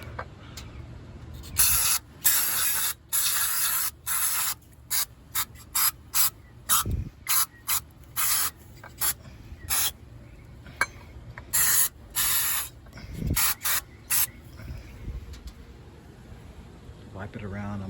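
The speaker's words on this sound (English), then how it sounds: "Now I'm gonna spray some carb cleaner in there." Carb cleaner sprays into a two-barrel carburetor in short, sharp hissing bursts, more than a dozen of them in an irregular rhythm and close to the mic, with a few low knocks between.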